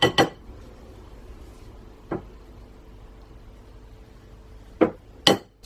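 A utensil scrapes and knocks against a mixing bowl in a few separate sharp clinks, two close together at the start, one alone, then a final pair, with quiet room tone in between and no talking.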